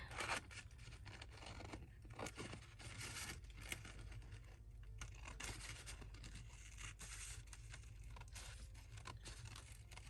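Scissors snip steadily around paper cut for a journal page, with soft repeated cutting and scraping sounds up close over a constant low hum, with no talking.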